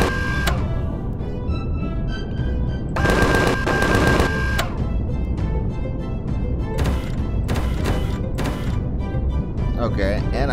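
Weapon fire in the video game Empyrion Galactic Survival, with loud bursts of automatic gunfire in several rapid volleys and scattered single shots, set against dense game background noise and talk.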